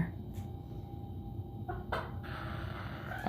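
Chicken hens make a few soft, brief clucks and murmurs at moderate distance over a constant low background hum.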